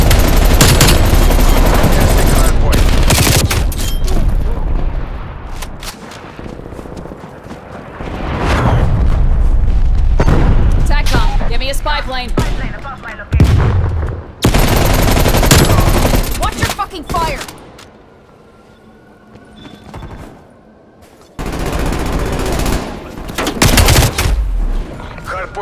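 An artillery strike in Call of Duty: Black Ops Cold War multiplayer, with heavy booming blasts and dense gunfire coming in loud waves, broken by brief quieter gaps.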